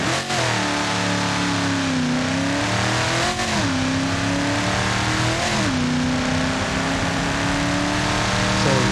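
A drag car from BeamNG.drive's Precision Drag mod screams under hard acceleration, its loud engine note climbing steadily through several gear shifts with brief dips between pulls, heard alone without talk.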